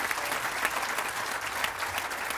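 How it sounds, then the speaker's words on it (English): Crowd applause at an outdoor Veterans Day commemoration in Scottsdale, a steady, even patter of many hands clapping at moderate distance, continuous and unbroken for the whole stretch. "Let's give them one more round of applause."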